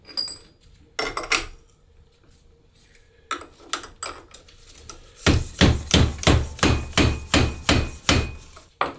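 A few scattered metal taps, a pause, then a steady run of sharp hammer strikes driving a fork seal into a Showa motorcycle fork, close and loud, about a dozen evenly spaced blows.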